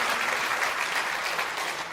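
A congregation applauds in thanks at the 70th anniversary thanksgiving service for the founding of the Saegajeong magazine: steady, dense clapping fills the whole stretch at an even loudness, with no voices over it.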